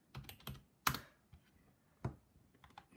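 Keys tapping on a computer keyboard in a quiet room, a short irregular run of light clicks with one sharper keystroke and a few softer taps.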